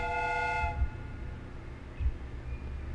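A steam train in a Sherlock Holmes: Crime and Punishment game scene gives a short whistle blast at the start, then rumbles on low and steady with a couple of soft thumps, no talking.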